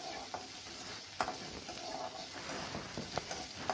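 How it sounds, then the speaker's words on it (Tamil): Chopped onions sautéing in oil for a snake gourd kootu, giving a quiet, even sizzle with occasional sharp clicks of a spoon stirring against the pan; no talk. "அந்த வெங்காயத்தை நல்லா செவர வதக்கி விட்டுடுங்க."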